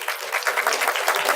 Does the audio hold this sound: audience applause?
yes